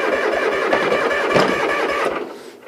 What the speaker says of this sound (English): Starts a little easier when it's not in gear.